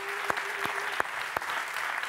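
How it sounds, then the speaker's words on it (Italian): Audience applause for a guest named Stefania in a TV studio, a soft continuous patter of many hands with a few louder individual claps standing out. "Un applauso a Stefania."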